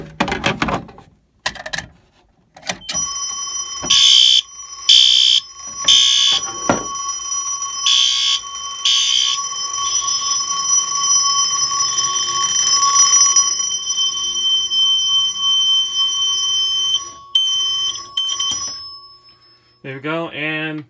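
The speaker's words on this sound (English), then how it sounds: "I guess we'll activate the pull station" A fire alarm triggered from a manual pull station rings in repeated loud electronic bursts, steady tones and pulsing horn blasts, with brief clicks at the start and a different pulsing tone at the end.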